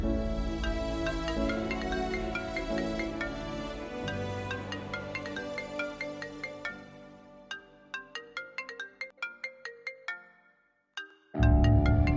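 Phone ringtone playing during a call in a television drama, a repeating bright electronic melody over a low musical bed that thins out to separate tones and ends with a sudden loud burst.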